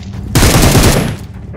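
Rapid burst of MG3 machine gun fire in the BGIS mobile battle royale game, loud and dense for about a second, then tapering into a short rattling tail.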